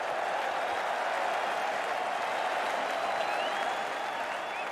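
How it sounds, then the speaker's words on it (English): Crowd at The Oval applauding England's 2005 Ashes series win, a steady wash of distant massed clapping and cheering with a faint voice over it. "the crowd helped them celebrate this quite spectacular moment"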